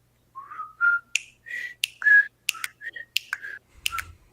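A person whistles the Andy Griffith Show theme, a clear, close, solo melody of short bright notes punctuated by crisp finger snaps, with a faint low thump near the end.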